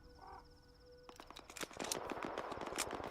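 Distant gunfire in a first-person shooter game crackles in irregular bursts of sharp pops after a quiet opening with a steady tone, fairly faint and with no talk.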